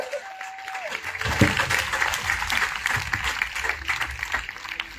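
A church congregation breaks into loud, sustained applause and acclaim for the Lord, dense clapping mixed with crowd voices filling the space and holding steady to the end.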